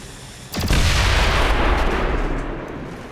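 A sniper shot cracks in the video game XCOM 2 and sets off a booming explosion that rumbles loudly and slowly fades over a few seconds.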